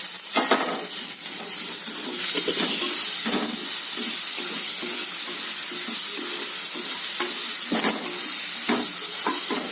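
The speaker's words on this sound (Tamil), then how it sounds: "இப்போ இதில் பச்சை மிளகாய் இஞ்சி பூண்டு அடித்து வச்சுருந்த பாருங்கள் அதை நான் போடுறேங்க அந்த விழுதை" A paste of green chilli, ginger and garlic fries and sizzles in a hot pan, a steady loud hiss with occasional stirring scrapes throughout.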